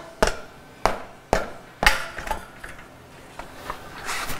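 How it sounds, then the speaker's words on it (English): A hammer taps a tire bead off the rim during a dirt bike tire change. Four sharp, evenly spaced knocks come close up, followed by lighter scraping and handling sounds. "Just tap on the bead"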